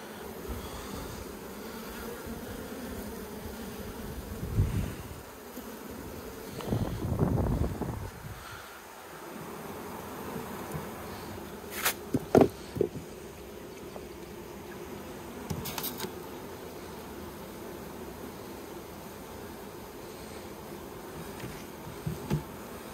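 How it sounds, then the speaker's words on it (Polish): Honeybees droning around an open hive while a beekeeper shakes them off a frame, a low steady buzz throughout with a few louder thumps and bursts of handling noise, plus brief sharp clicks later. "po co ja strzepuję te pszczoły?"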